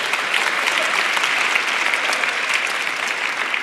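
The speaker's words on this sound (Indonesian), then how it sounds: "Sekarang waktu yang tepat untuk tepuk tangan," Audience at a church sermon applauding, a dense continuous wash of many hands clapping at steady volume throughout.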